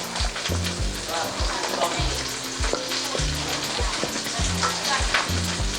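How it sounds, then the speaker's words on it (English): Red onions fry and sizzle in a pan during meal prep, a loud, steady crackling hiss with scraping stir strokes and utensil knocks recurring throughout, close up and with no voices. "so we see we're getting a nice caramelization on our red onions"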